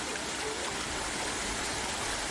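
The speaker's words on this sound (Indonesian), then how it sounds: "Hujan deras yang mengguyur daerah ini menyebabkan sungai Jenes Karanganyar meluap dan memutus akses ke 5 desa" Floodwater from the overflowing Jenes river in Karanganyar, Central Java, rushes steadily after heavy rain, a dense continuous roar of flowing water close by with no voices.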